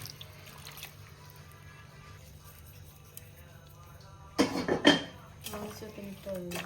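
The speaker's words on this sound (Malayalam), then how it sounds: "ശകല വെള്ളം കൂടി ഒഴിക്കാം" Water splashes into a pot of jackfruit in a short, loud burst, clattering briefly against the metal, then quieter kitchen clinks follow with faint background noise.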